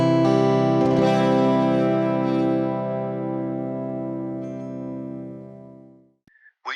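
Danelectro 59X12 12-string electric guitar on its P90 neck pickup, run through an Ursa Major effects pedal: one strummed chord rings out loud and shimmering, a dense sustained wash that slowly decays for about six seconds before a brief pickup of another note.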